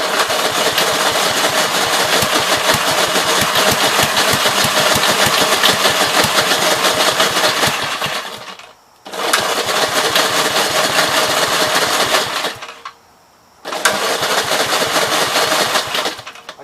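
Engine of an early-to-mid 1960s car idling steadily and loud up close, running on carb cleaner, with a rough pulsing rhythm that cuts out twice into brief silence before catching again.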